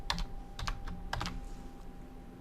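Someone types a password on a computer keyboard: a few quick clusters of sharp key clicks, close and moderately quiet, over a faint steady hum, fading out toward the end.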